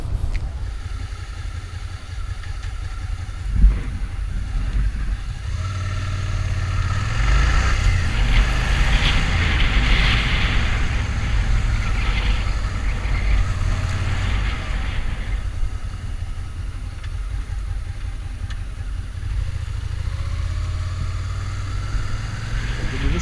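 A motorcycle on a category A practical exam yard, performing a timed maneuver at a set average speed of about 30 km/h. The engine runs steadily and close by the whole time, with a brief knock early on.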